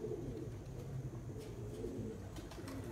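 Pigeons cooing amid a crowd of birds in Sialkot, Punjab, a soft, continuous, throaty burble with low, steady rolls and no voices over it.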